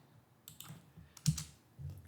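Quiet typing on a computer keyboard while entering spreadsheet values, a short burst of soft, irregular key clicks with a slightly louder tap near the middle, heard close up with no talking.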